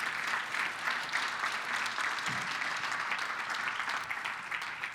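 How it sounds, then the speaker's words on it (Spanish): A church congregation claps together in dense, continuous applause that sounds somewhat distant and hall-like, with no talk over it. "Give a hand clap to Jesus."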